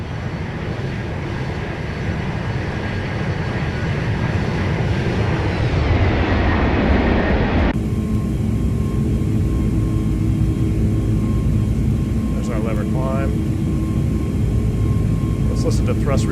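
Airbus A321neo jet engines at climb power after takeoff in a flight simulator, a steady loud roar that drops abruptly to a quieter hum as thrust is reduced, with a few faint chirps near the end.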